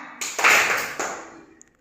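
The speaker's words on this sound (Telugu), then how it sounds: "క్లాప్." A class of young children clap their hands together on command in a school classroom, a dense burst of many overlapping claps that swells and then fades over about a second.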